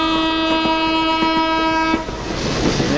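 A train passes with a sustained horn blaring loud and near over rhythmic clickety-clack of wheels, the horn cutting off midway and leaving the rushing rumble of the carriages.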